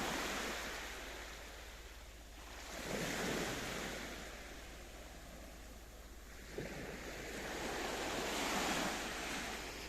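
Waves break and wash up at Lara Bay Beach in Akamas, Paphos, Cyprus, with slow swells of surf rising and falling about every few seconds over steady wind rumble, moderately distant and without voices.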